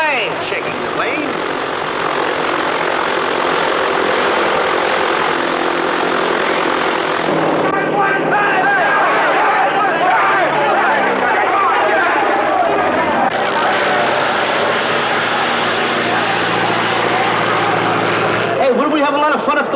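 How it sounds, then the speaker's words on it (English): Airplane engines run loud and close inside a hangar, a continuous propeller drone with shifting pitch, and voices talk over it throughout. "What's that noise? Oh, that's one of those planes over there."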